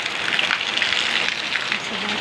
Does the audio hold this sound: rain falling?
yes